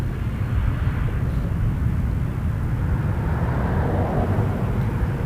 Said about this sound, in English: it's a Dassault Falcon 9X